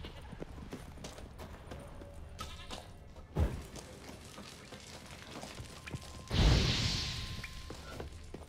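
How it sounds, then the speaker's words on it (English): Goats bleat in a Witcher 3 game scene, with two brief louder calls standing out over a steady ambient background and faint footsteps. "A lot of goats."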